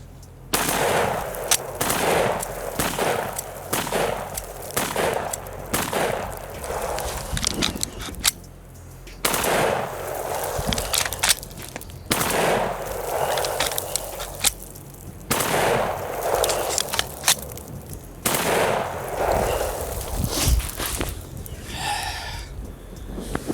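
An AR-style rifle with an FRT-15 forced reset trigger fires in rapid, loud strings of shots outdoors, several bursts separated by short pauses, each string a fast, near-continuous stream of cracks.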